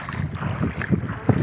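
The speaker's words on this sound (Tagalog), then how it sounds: "Medyo maalon pa oh, kasi malakas ang hangin." Strong wind buffets the microphone on a small boat out on choppy sea, a gusty rush with irregular low thumps from waves and hull in a short burst.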